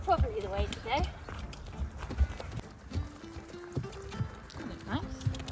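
A horse trots at a sitting trot under a new Alta Escuela saddle at a 2023 show, its hooves clip-clopping in a steady rhythm at moderate distance while people talk over it.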